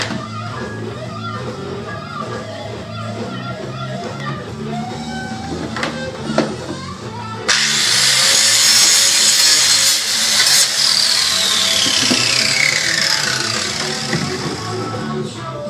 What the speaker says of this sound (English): Now what I'm going to do is I'm going to grind the edges.